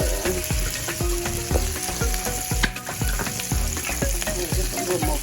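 Bacon and greens frying in oil in a home kitchen pan, a dense close sizzle with a regular series of stirring scrapes and knocks from the utensil against the pan.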